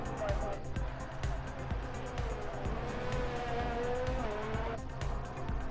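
Race car engine in a racing video game, held at a steady whine through a run of corners at Monaco or Canada, with tire squeal under continuous talk.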